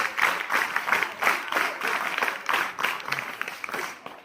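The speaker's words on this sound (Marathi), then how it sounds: "सर्वांनी टाळ्या वाजवून या वर्गाचं स्वागत करायचं आहे" Students clap together to welcome a class at a school morning assembly, a steady, dense burst of many hands beating in rough unison, close and fairly loud throughout.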